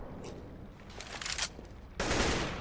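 AWP sniper rifle shots fired through a wall on the Overpass map in CS:GO, sharp gunfire bursts in the game with a loud blast near the end, no talking.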